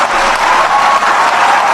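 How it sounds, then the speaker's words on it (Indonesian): Audience at a political gathering with Megawati applauding, a short, dense, steady burst of many hands clapping, loud and close, with no voices over it. "Kok tepuk tangannya tidak bersemangat?"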